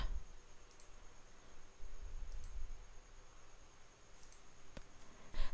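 A computer mouse clicks in a quiet room while a user works through hospital pharmacy inventory software: a few faint, isolated clicks spaced a second or two apart over soft background hiss.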